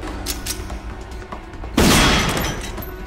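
Gunfire in a tense TV drama scene, one sudden loud blast with a long rolling decay over background sound, close and dominant.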